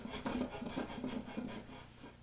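Rasping strokes of a flush-cutting saw or file trimming the excess from a glued wooden biscuit on a woodworking shaving stand, a steady rhythm of about ten close back-and-forth strokes with no talking.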